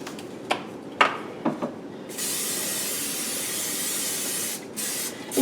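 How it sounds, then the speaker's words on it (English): Cooking spray hisses steadily onto a 9x5 baking dish in one long sustained burst lasting a few seconds, preceded by a few short taps and followed by a brief final spritz. "I'm just going to spray it really good, make sure I get the corners"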